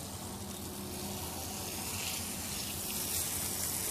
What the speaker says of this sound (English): we will water this very slowly